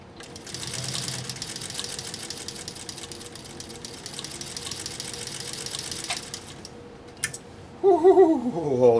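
Singer 201-2 sewing machine stitching steadily at close range, a continuous rapid mechanical whir that stops near the end, followed by a brief clunk and a person speaking.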